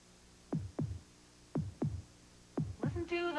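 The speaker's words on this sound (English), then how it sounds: "Listen to the heartbeat." A heartbeat sound effect from a Chevrolet car advert: three pairs of deep, thumping lub-dub beats evenly spaced over a low hum, ending as a tonal musical sound begins.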